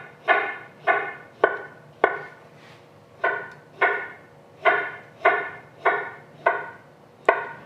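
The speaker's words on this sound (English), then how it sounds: "Just gonna do some slices." A knife chops repeatedly through food on a cutting board for Mexican street corn, with about ten sharp, evenly spaced cuts close up and no talking.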